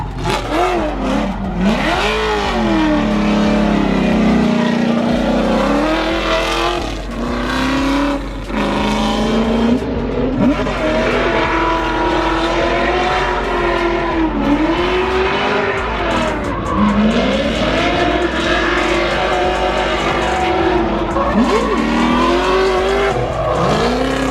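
Nissan 350Z drift car on a large oval track, a loud sustained engine roar with rising and falling revs through third and fourth gear, mixed with continuous tire squeal and skidding.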